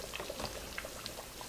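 Chicken gumbo simmering in a pot on the stove top, with soft irregular bubbling pops and gentle liquid burbles, close and quiet.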